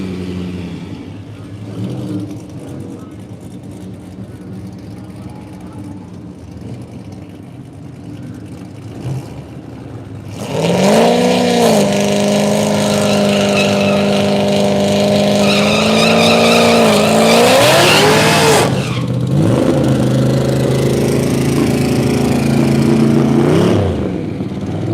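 A boosted C6 Corvette making about 1,000 horsepower at a Tulsa street takeover race roars up loud and close after a quieter stretch, its engine revving hard with rising and falling pitch for several seconds, then holding a steady high drone.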